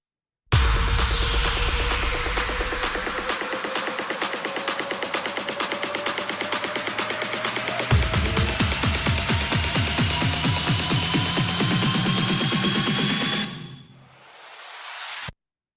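Build-up drum sample from a remix: a dense, steady stream of loud hits that gradually quicken into a fast roll, with a low layer entering midway, then cutting out near the end before a short swell.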